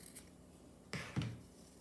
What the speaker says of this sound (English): again use my scissors, and cut right on that crease